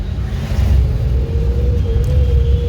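A learner's car in traffic pulls away as the clutch is let out and the accelerator pressed, giving a loud steady engine rumble with a rising tone and no talking.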